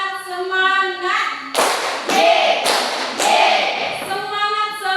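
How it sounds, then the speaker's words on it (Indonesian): Schoolchildren in a classroom do a teacher-led rhythmic clap game, sending out a few sharp bursts of group clapping between voices that chant along. "Tepuk semangat."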